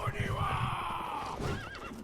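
In the video game Sekiro, a horse lets out a loud, close whinny that rises and falls for about two seconds over game noise.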